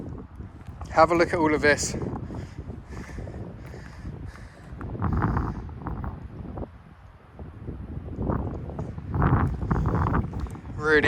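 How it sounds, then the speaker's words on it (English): Gusty wind buffets the microphone outdoors in surges of rumbling noise, rising and falling across the stretch while someone talks. "it's still quite windy here"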